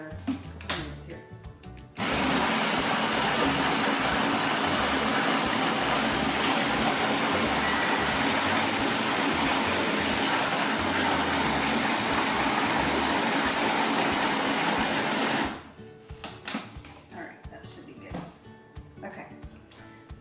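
A countertop blender runs for about thirteen seconds, pureeing skin-on pears into thick homemade organic baby food, a steady loud whirring roar that starts and stops abruptly, with quieter handling noises before and after.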